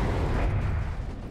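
Mortar smoke shells land in the wargame WARNO with a dull, rumbling explosive impact, a close low boom that fades over a second.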